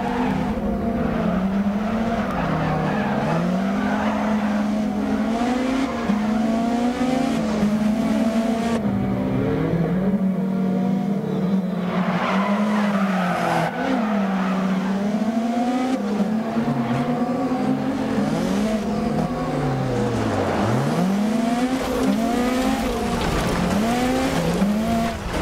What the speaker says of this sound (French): Je vous laisse profiter un petit peu aussi du son de la voiture en vue extérieure